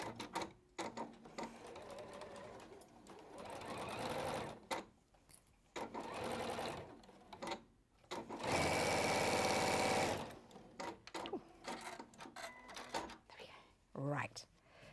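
A sewing machine stitches a quarter-inch seam in rapid bursts of mechanical chatter, with one longer steady run of several seconds, while a person talks throughout over quieter handling noises.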